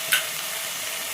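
Ginger-garlic paste frying in a pan for boti curry, giving a continuous loud hiss with one quick metallic spoon scrape near the start, heard up close with no voices.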